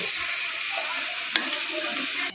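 Water poured into a pan where ginger and spices were frying, giving a steady, loud sizzle and hiss across the whole stretch, with one brief sharp crackle partway through and no talk.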